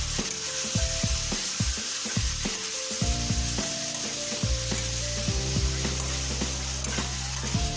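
Potatoes and green peas fry in a pan, with steady sizzling throughout and repeated scraping knocks of a utensil as the mixture is stirred up close.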